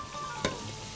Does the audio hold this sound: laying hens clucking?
no